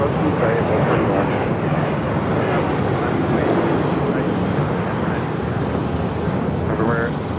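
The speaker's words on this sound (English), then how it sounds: "That was Southwest Airlines Flight 600 heading to Oklahoma City, 737-700." A Southwest Airlines Boeing 737-700 taking off at Phoenix airport gives a loud, sustained jet engine roar throughout, steady and close, with voices talking underneath.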